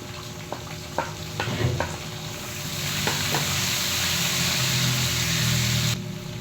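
Garlic then onion sautéing in a pan as the base for a mung bean stew, a steady frying sizzle with scattered clinks of a spoon stirring, close and moderately loud with no talk.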